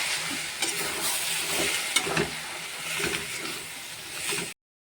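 Jute greens fry in a pan before dal is added, giving a continuous sizzle broken by scraping stirs and soft clatters, close and fairly quiet, with no talking.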